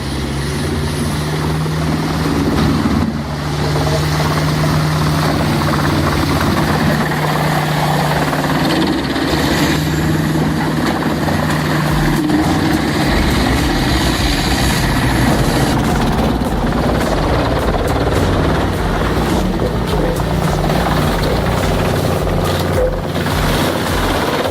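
Petzolato PTH 1200 1000M drum wood chipper driven by a 1,150 HP Caterpillar C27 engine roars continuously at close range, a heavy throbbing drone with shifting grinding and crunching as wood is fed through.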